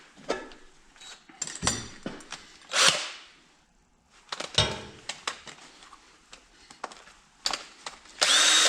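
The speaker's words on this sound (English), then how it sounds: "Ready to drill." A power drill drills a pilot hole in a garage in several short bursts separated by pauses, close by, with some clattering handling noises in between.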